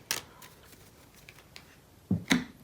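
Tarot cards from the Major Arcana deck are shuffled by hand, giving a quick papery riffle at the start and two more sharp card flicks near the end, close and fairly quiet.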